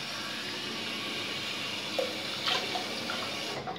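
A bathroom tap runs water into a sink for a cold rinse after a wet shave, a steady close hiss with a few splashes near the end.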